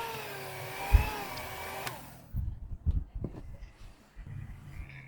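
An electric mixer kneads soft, slightly slack chocolate cinnamon roll dough, giving a steady whining motor hum for about two seconds before it stops, followed by scattered thumps and bumps of handling.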